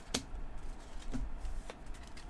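Playing cards shuffled in a few quick riffling bursts, each a short crisp rush of papery flutter, fairly faint against steady room noise with no talking.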